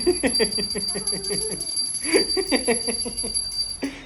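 A hand bell rings continuously in the background at a Swami Samarth temple while people talk and shout excitedly nearby.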